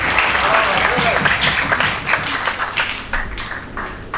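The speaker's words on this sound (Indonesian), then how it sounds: "Sebelumnya tepuk tangan dulu untuk Ananda" A room full of people claps steadily for a few seconds, the applause loud at first and tapering slightly toward the end.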